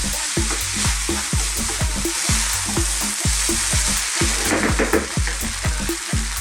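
Indian potato rice stir-fried in a pan, a steady loud sizzle broken by a quick regular series of spoon scrapes and knocks, close up with no voices.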